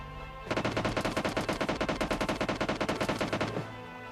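Rapid automatic gunfire in the video game PUBG: a sustained burst of evenly spaced shots that starts abruptly and runs about three seconds before cutting off, loud and close with no talk over it.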